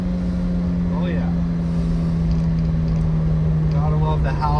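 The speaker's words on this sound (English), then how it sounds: "Gotta love the howl of a 4AGE." A Toyota 4AGE engine howls steadily as the car drives along, a sustained loud tone with road noise beneath, and no talk.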